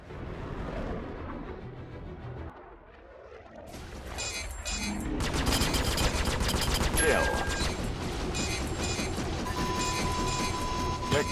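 Dense weapons fire from a Star Citizen Vanduul swarm battle, a loud continuous barrage of rapid shots and blasts that builds midway and stays thick with mechanical clatter and explosions.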